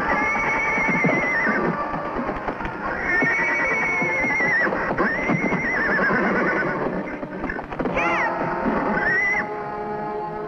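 A wild Mustang horse neighs and whinnies repeatedly, loud and close, with several long shrill calls rising and falling over a rough background.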